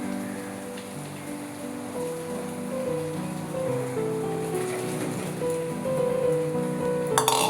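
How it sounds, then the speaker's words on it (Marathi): Hot water strained off boiled elephant foot yam pours and splashes in a continuous trickling rush, steady and close with no talking. "आता हे पाणी आपण गाळून घेऊया."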